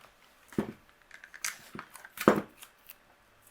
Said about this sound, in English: We'll just line this up and run this through the die cut machine.